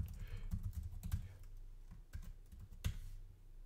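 A password is typed on a computer keyboard, a quick close run of soft key clicks in two short bursts with a pause between, set against low background rumble and no speech.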